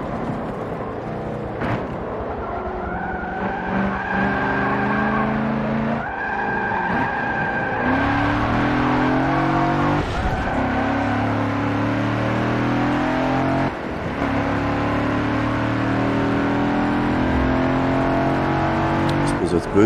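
A 2006 Audi RS4 racing on the Nordschleife in Forza Motorsport 7: a loud engine revving and shifting through gears, with rising and falling pitch and tire squeal, while people talk throughout.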